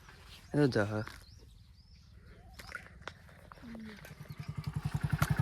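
A motorcycle engine idles low and sputters, then revs up into a rapid, pulsing rhythm at the end; a voice speaks briefly near the start.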